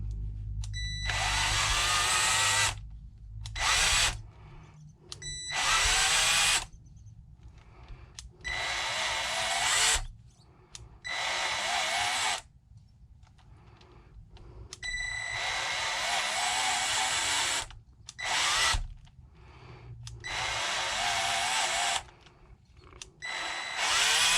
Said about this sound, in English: all you got to do is you just sort of start drilling